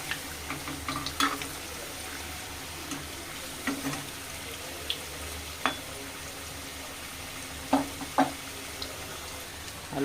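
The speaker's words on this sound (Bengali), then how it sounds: "তার জন্য আলুটা ভেজে দিচ্ছি।" Potatoes fry in hot oil with a steady, continuous sizzle, broken now and then by a few sharp clinks and brief spatters, close to the pan and without any talking.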